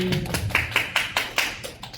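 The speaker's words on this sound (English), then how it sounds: "Let's give her a round of applause." A burst of clapping from a small audience, sharp irregular claps fading out over a couple of seconds.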